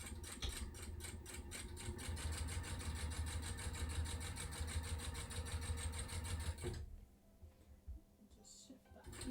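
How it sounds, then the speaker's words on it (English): A sewing machine top-stitches along a clear vinyl pouch, running in a steady rapid mechanical whir for most of the stretch before stopping abruptly, leaving only faint handling sounds afterward. "I'm just going to top stitch along here to keep it in place."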